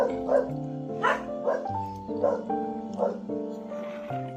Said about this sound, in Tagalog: Maingay mo aso.